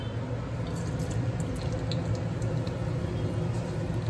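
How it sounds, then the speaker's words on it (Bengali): Fenugreek seeds tempering in plenty of hot oil in a pan, a dense, steady close-up sizzle flecked with tiny crackles and pops, and no talking. "মেথি ফোড়ন দিচ্ছি"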